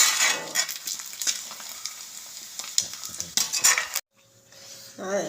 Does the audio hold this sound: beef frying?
yes